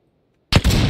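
A single loud gunshot rings out in PUBG on the Miramar desert map, an abrupt crack after silence followed by a brief reverberant tail.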